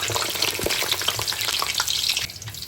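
Banana frying in very hot cooking oil, a steady close sizzle with bubbling crackle and occasional stirring clatter, easing slightly toward the end.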